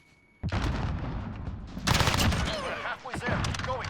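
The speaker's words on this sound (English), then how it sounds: "Who the freaking hell is shooting me through this wall?" Dense bursts of rapid gunfire and explosions in the video game Modern Warfare crackle continuously, loud and close, with a brief lull before another volley.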